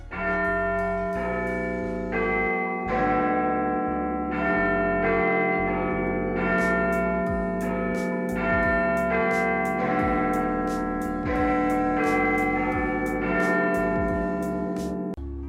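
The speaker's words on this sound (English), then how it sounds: "the Big Ben still works as a functional clock. It even plays its iconic chimes when it hits 12 o'clock." Big Ben's clock chimes ring out in the video game Fallout London, a steady sequence of deep resonant bell strikes with long overlapping decays, loud and alone.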